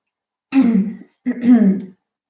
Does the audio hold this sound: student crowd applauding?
no